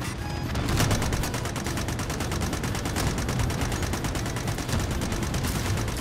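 Automatic gunfire rattles nonstop in Call of Duty: Warzone, a dense, loud, rapid stream of shots over a continuous battle din, with no pauses.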